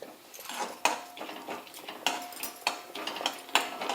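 Cashews and almonds frying in hot ghee in a pan, with a steady sizzle broken by repeated sharp clinks and scrapes of a utensil stirring against the metal; no talking.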